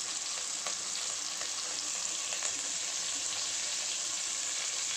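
Green chili, shallots and coriander leaves sauté in hot oil in a pan, giving a steady close sizzle with faint stirring clicks and no voices.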